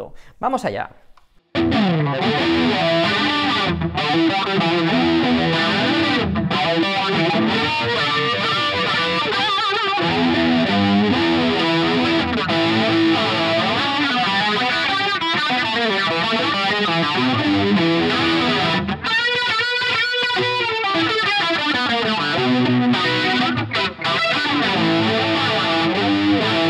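An electric guitar plays through a Walrus Polychrome flanger set to a Univibe-like sweep, with feedback halfway and the mix slightly past centre. Sustained chords swirl and shimmer continuously after a brief spoken word at the start.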